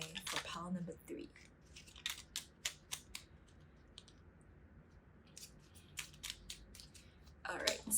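Hanafuda cards being shuffled by hand in a series of quick crisp riffles and snaps, moderately close, with soft rustling between bursts and a heavier flurry near the end.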